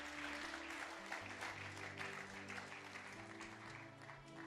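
A church congregation claps together in a steady, fairly faint burst of applause, with sustained musical tones underneath.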